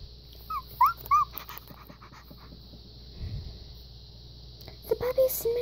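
A puppy gives a few short high whimpers near the start and again at the end, close and moderately loud, with quiet whispering and rustling between.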